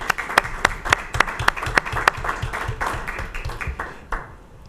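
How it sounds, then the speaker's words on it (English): Audience applause for Ryan at a school board of education meeting, a burst of individual hand claps from a modest crowd, fairly close and steady before thinning out toward the end. "I want to give him a round of applause."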